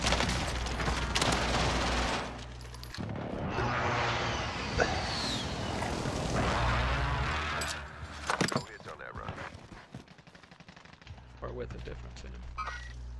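Dense bursts of gunfire and explosions in the Battlefield 2042 video game, loud and continuous through most of the stretch, thinning briefly near the end, with a player talking over the combat.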